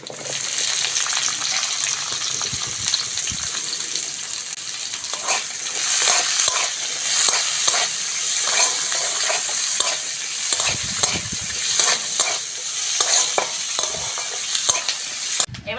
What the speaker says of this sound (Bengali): তেল গরম হয়ে গেছে ফোড়নের জন্য পাঁচ ফোড়ন নিয়েছি দিয়ে দেবো কুচনো পেঁয়াজ